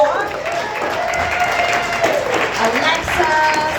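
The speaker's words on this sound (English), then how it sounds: "Let's have a round of applause for all the fabulous comments you just saw." A comedy show audience bursts into steady, loud applause, filling the room with dense clapping and some cheering and whoops throughout.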